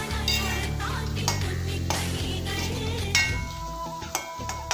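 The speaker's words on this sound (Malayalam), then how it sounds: "ഇളക്കി കൊടുത്തുകൊണ്ടിരിക്കുക മീഡിയം ഫ്ലെയിമിൽ വെച്ച് തന്നെ" Beetroot pickle fries in a pan while a utensil stirs it steadily, giving a continuous close sizzle with scraping and light clinks of metal on the pan.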